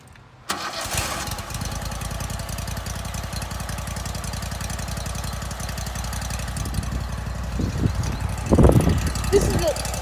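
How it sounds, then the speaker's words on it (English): A 22-horsepower Kohler Command V-twin CH670 on a Cub Cadet GT2544 garden tractor starts and settles into a steady, throbbing idle with a lumpy, loping beat. It is close and continuous, with a few louder bursts near the end. "This is again the 22 horsepower Kohler Command V-twin CH670."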